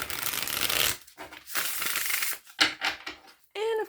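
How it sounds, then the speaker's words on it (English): A tarot card deck being shuffled indoors in a back office, several riffling and rustling bursts of card noise in quick succession, close and moderately loud, ending with a short voiced sound. "3 shuffles."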